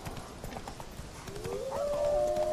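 In The Witcher 3 video game, a wolf lets out a rising, drawn-out howl in the second half, over steady rhythmic horse hoofbeats and faint ambience.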